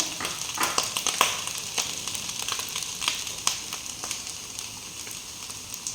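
Sautéed onions frying in a pan for fried rice make a steady, close sizzle dotted with sharp crackling pops, with no voices over it.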